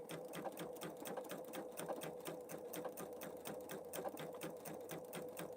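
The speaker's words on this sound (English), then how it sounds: "it's stitching over that bobbin thread" A Pfaff Creative Vision embroidery machine stitching over bobbin thread, a quiet, evenly rhythmic rapid ticking of needle strokes running steadily throughout, close but soft.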